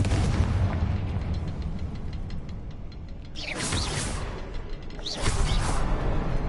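A Confringo explosion spell goes off in a Hogwarts video game, a loud rumbling blast with whooshing bursts and swelling magical effects over dense game sound, with no talking.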